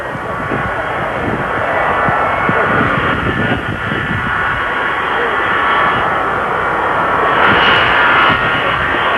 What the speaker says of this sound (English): It's another jet approaching now.